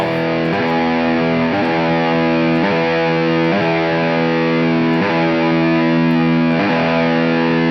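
A thick, heavily distorted electric guitar through a Line 6 Helix Mandarin Rocker amp model chugs out low sustained chords, loud and close, with a chord change every second or so.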